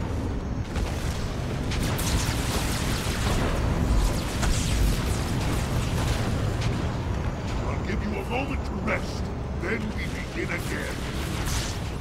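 Grenades go off during a Halo 2 firefight, dense rumbling booms and blasts over loud continuous combat noise, with someone talking over it.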